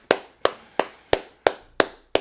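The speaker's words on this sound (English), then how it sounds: "Clap it up." Seven sharp hand claps in a steady, evenly spaced rhythm, close and crisp with nothing else around them.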